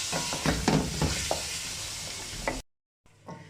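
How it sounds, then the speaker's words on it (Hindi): Chicken browns in a frying pan with a close crackling sizzle and several utensil knocks and scrapes, then the sound cuts to silence before the sizzle returns more faintly. "हाँ, अब ये चिकन ब्राउन हो जाएगा"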